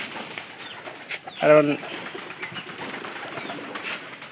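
A Pairi pigeon gives a short, close coo in the middle of a quiet background, with someone talking briefly in the clip.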